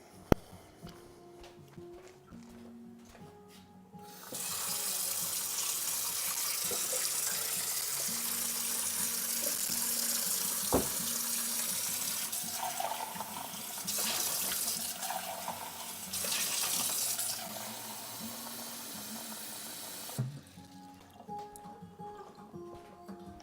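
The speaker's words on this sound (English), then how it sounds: "Let's refill my water" Tap water runs steadily from a faucet for roughly sixteen seconds, refilling a glass, with the stream shifting in pitch and force as it fills, then shutting off into a quieter room.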